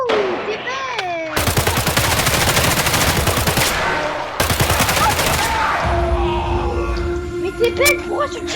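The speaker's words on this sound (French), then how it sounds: "pourquoi tu tires sur tout?" Rapid video-game gunfire, likely automatic bursts, blasts loudly in two long volleys with brief gaps, mixed with other game effects and tonal sounds, while players talk over it.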